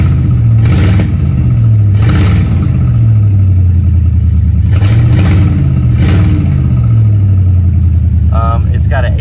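Mercury Grand Marquis off-road build with very high mileage, its engine running loudly close by and revved up and down several times in rising and falling sweeps.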